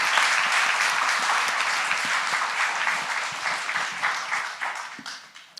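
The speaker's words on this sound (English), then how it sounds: "One more big round of applause for all of our finalists today" Warm applause from an audience at a youth competition's state finals, many hands clapping close by, steady at first and then thinning out and fading toward the end.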